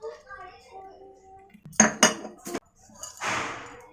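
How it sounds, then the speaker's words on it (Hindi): Steel dishes and utensils clinking and clattering during dishwashing at home, a few sharp clanks followed by a scraping rattle, close and moderately loud, after a quiet stretch. "बर्तन सारे धो के रख दूंगी"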